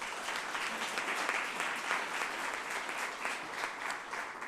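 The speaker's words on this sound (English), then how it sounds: "So give him a round of applause." Audience applause at a panel event on health and sitting, a steady, moderately distant wash of clapping from a crowd lasting throughout without pause.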